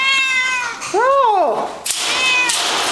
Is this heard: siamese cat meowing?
yes